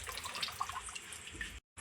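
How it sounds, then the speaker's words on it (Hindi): A motor-fed tap gives only a weak flow, a thin trickle of water splashing into a vessel close by, faint and continuous, cutting out briefly near the end before resuming. "मोटर चलाए हैं उससे पानी बहुत थोड़ा थोड़ा आ रहा है"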